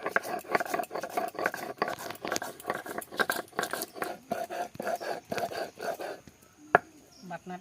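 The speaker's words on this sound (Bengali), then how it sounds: "কালো সরষা, সাদা সরষা, কাঁচা লঙ্কা, কাজু, নারকেল কুড়া, এক চিমটা লবণ, দুটো শুকনো লঙ্কা একসঙ্গে বেটে নিচ্ছি" Black and white mustard seeds, green chillies, cashews, grated coconut, salt and dried chillies ground by hand into a paste, heard as rapid, rhythmic scraping and grinding strokes close by, easing off near the end.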